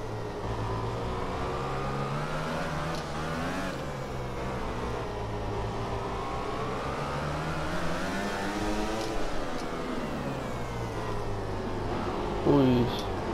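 Yamaha M1 motorcycle in MotoGP 15 racing game, engine note rising and falling steadily through the whole stretch with harmonic sweeps as it revs and shifts, loud and continuous with a brief sharper burst near the end; a voice talks over it.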